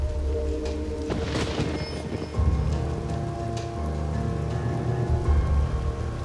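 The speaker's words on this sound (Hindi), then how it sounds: "बारिश हो रही है, ट्रेन लेट होगी।" Steady rain falls in a movie scene, a dense continuous patter on surfaces with occasional low rumbles, moderately loud and with no talking.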